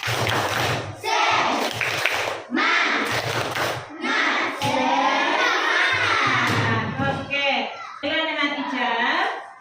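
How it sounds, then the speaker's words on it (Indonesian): A primary school class does a spirit clap together in the classroom, loud rhythmic thumping claps mixed with children's chanted shouts in bursts. "Coba tepuk semangat"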